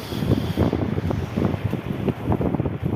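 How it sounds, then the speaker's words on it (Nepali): Strong wind buffets the microphone at a beach in Adelaide, South Australia, a constant rough roar with gusty surges and no one speaking. "जाडो छ यस्तो हावा चलिरहेको"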